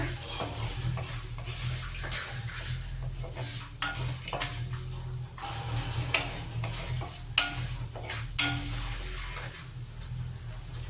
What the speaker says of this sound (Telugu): బాదాం, ఇంకా జీడిపప్పులు, కొబ్బరి వేసాను. ఇప్పుడు కాస్త ఫ్రై అయ్యాక